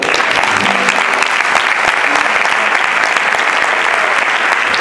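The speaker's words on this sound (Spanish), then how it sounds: "Y un aplauso al guitarrista" Audience at a horse-riders' gala dinner in Caravaca applauding a flamenco guitarist, a steady roar of many hands clapping, loud and close, with a few voices underneath.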